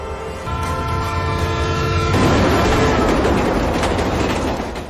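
A train rolls along railway tracks, loud and close, with a sustained horn-like tonal blare in the first couple of seconds giving way to dense rumbling clatter of wheels and cars.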